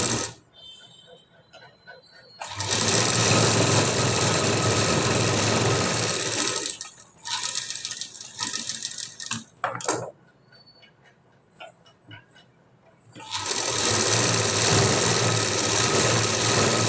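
A sewing machine stitches a blouse lining along its edge in steady bursts, each run a continuous rapid whirr, separated by pauses where the machine stops and fabric is adjusted.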